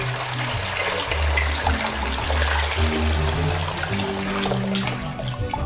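Water pours steadily from a tap into a bowl, a continuous splashing gush, close and fairly loud with no voices.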